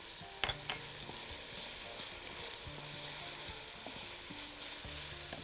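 Orange zest and grated ginger sizzle steadily in a hot pan, a continuous close frying hiss with a few sharp crackles near the start and occasional stirring clinks, no voices.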